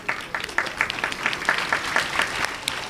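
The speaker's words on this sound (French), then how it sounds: "Un mot d'applaudissement." Small audience at a school event in Senegal clapping in a brief, sparse round, individual claps distinct and moderately close, with no talking over it.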